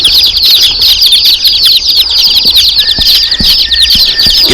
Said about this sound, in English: You can hear our other babies chirping away.